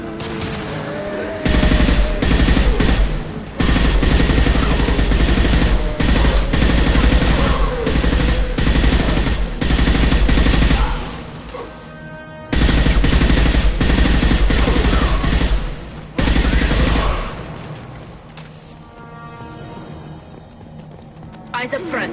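Rapid automatic gunfire from a Mass Effect 2 firefight, loud bursts of dense repeated shots with brief pauses between volleys, ending in quieter combat ambience.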